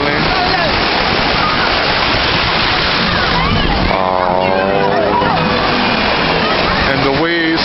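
Rushing, splashing ocean surf washes over legs at a beach, steadily and loudly up close, with a voice speaking over the churning water.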